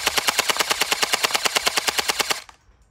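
A Gel Blaster Surge fires in a rapid full-auto burst of about twenty evenly spaced, sharp close shots, then stops abruptly and leaves a faint quiet tail.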